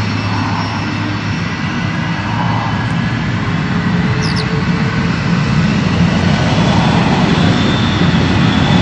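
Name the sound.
Cathay Pacific Boeing 747-412 jet taking off at Heathrow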